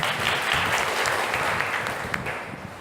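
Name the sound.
audience applause for students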